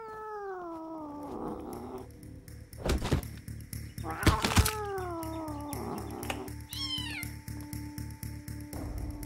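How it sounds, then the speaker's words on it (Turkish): A cat meows repeatedly in the survival shooter game Potentia, several drawn-out, wavering cries separated by sharp thuds and clatter over a low steady game hum. "Bir kedi var orada."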